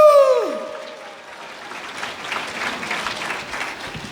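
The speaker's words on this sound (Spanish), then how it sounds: "Fuertes aplausos, iglesia." Church congregation applauding during a sermon, a soft, diffuse wash of clapping that swells gradually after a brief tonal sound at the start and continues at moderate loudness.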